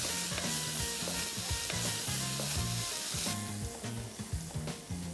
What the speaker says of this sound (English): So let's give this a little mix.